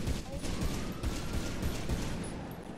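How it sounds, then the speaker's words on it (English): Sustained rapid gunfire rolls through a video game roleplay scene, a dense, continuous crackling barrage that stays loud and steady throughout, with no pause between shots. "Someone shot."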